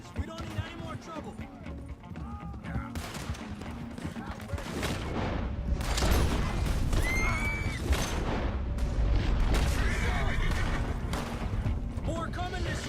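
Horses whinny and neigh in Red Dead Redemption 2 amid a busy game soundscape, with shouting voices, gunfire-like bursts and rumbling that grows louder midway and stays dense.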